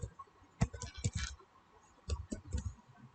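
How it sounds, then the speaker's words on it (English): Typing on a computer keyboard, two short bursts of soft key clicks close by, separated by a brief pause, quiet overall. "here just typing a command that is"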